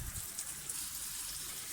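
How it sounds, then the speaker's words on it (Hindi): Liquid pouring steadily into a pan, a soft continuous splash and gush, fairly faint and alone, as about a spoonful of vinegar goes into chicken fajita rice. "अब इसमें मैं तकरीबन 1 चम्मच के करीब जो है वो सिरका यानी कि विनेगर डाल दूंगी।"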